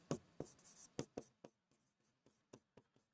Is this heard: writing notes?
yes